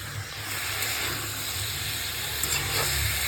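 Dal sizzles gently in a pan as it is stirred, a soft continuous hiss with faint scraping, fairly quiet and steady.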